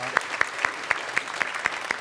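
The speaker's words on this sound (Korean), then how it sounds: "박수로 환영하도록 하겠습니다" Sparse, evenly spaced claps ring out in a church service as a congregation welcomes first-time visitors, about eight sharp hits at a steady rhythm over a soft murmur.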